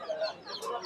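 Local desi hens and roosters cluck briefly at a busy poultry market in Fatullah, a quick burst of a few close, sharp clucks.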